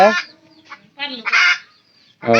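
A desi hen clucks while laying an egg: a few short, harsh, nasal squawks up close, separated by brief quiet gaps.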